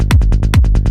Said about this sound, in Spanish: el kick y el bajo están a un nivel donde ninguno sobresale por encima del otro